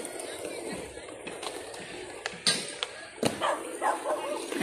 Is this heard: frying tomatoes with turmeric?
no